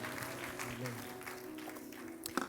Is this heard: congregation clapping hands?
yes